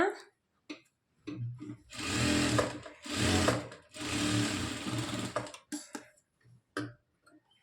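A sewing machine stitching a blouse runs in three long steady bursts, framed by short start-stop spurts and quiet pauses, loud and close.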